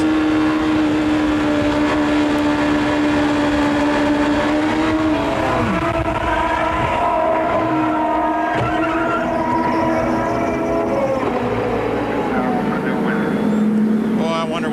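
CART race car engines at a 1993 oval race in New Hampshire, a loud, sustained high-pitched drone with shifting pitch as cars pass, under a commentator's voice.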